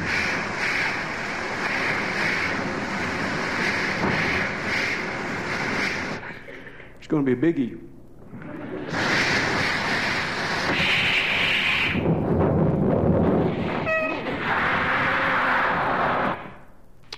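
A voice imitates an old steam locomotive building up steam: long, loud bursts of breathy hissing and rushing broken by short pauses and a brief whistle-like squeal. A short spoken line is heard partway through.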